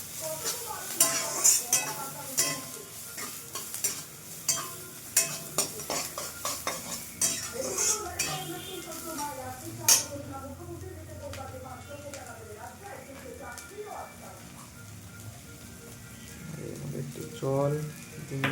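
Onion fries in oil with egg in a pan, a soft sizzle under repeated scraping and clinking of a utensil against the pan, close by, while a person talks throughout.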